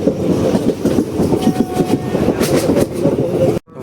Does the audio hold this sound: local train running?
yes